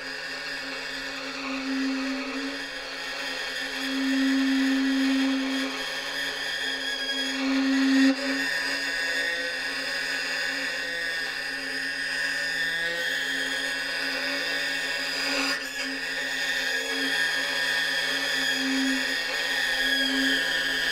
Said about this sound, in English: So bow the string that has the clip on.